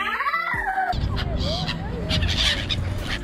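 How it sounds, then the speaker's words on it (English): A colony of seagulls being fed bread in Geneva in winter, loud squawks and wailing cries from several birds close by, overlapping in bursts, with crowd voices and background bustle. "A colony of seagulls being fed by two young guys"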